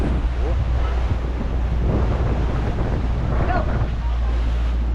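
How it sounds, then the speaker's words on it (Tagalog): Strong wind buffeting the microphone over big rough sea waves aboard a small fishing boat in the West Philippine Sea, a constant loud wash with faint voices underneath. "Katulad kahapon, malalaki pa rin yung alon."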